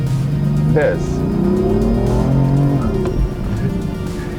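A BMW M4 engine revs and pulls through the gears, rising in pitch with a shift midway, heard from inside the car at moderate loudness.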